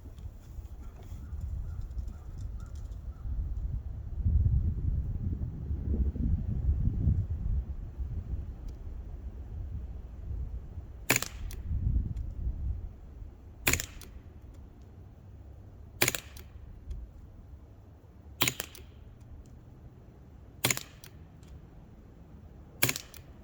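A Walther CP99 Compact BB pistol fires Hornady Black Diamond BBs in six sharp, quiet snaps spaced a couple of seconds apart, following a stretch of low rumbling handling noise.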